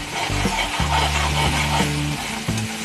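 Onions sautéing in a pan for Kerala-style fish molee, a steady loud sizzle and frying hiss running throughout, with low tonal hum layered underneath.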